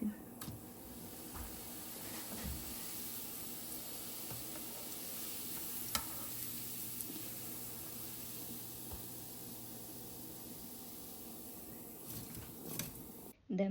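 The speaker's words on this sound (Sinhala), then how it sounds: "තව එකක් බදින්න." Asmi, a rice-flour sweet, fries in hot oil with a steady, faint sizzle and crackle that runs through the whole stretch, with a few soft clicks of utensils and no clear talk.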